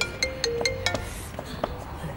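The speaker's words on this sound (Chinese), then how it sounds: "电话响了" A phone rings with a bright, rapid melodic ringtone, a series of quick chiming notes close by, while people speak over it.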